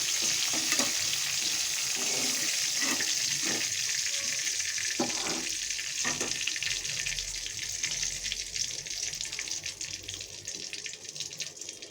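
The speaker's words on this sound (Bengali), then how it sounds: "সামান্য একটু ভেজে নেব। হয়ে গেল আমার কাঁকরোল ভাজি।" Spiny gourd (kakrol) slices fry with a little salt in a pan, giving a steady close hiss of sizzling oil broken by several scraping stirs, with no one talking.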